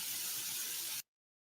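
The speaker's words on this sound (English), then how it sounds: "See how quiet the sizzle is here?" Meat sizzles in a hot pan before teriyaki sauce goes in, a steady, bright hiss that holds for about a second and then cuts off abruptly into silence.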